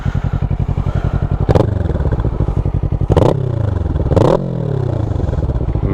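A 650 motorcycle engine idles with a rapid, lumpy thump, then revs up sharply several times and drops back, loud and close.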